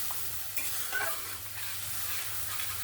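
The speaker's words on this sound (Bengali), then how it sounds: "এখানে আমি মশলাটা জিরে, ধনে, টমেটো, আদা, কাঁচা লঙ্কা যেটা পেস্ট করে রেখেছিলাম সেটা দিয়ে ভালো করে একটু কষিয়ে নেব" Cumin, coriander, tomato, ginger and green chili paste frying in a pan, a steady soft sizzle with gentle stirring scrapes throughout, no talk.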